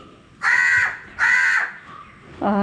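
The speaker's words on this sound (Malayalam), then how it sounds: "കാക്ക വന്നു. ഇവിടെ 2 കാക്കയുണ്ട്." Crows cawing at a home, two loud harsh caws in a row with a third call starting at the end, close and clear over quiet background.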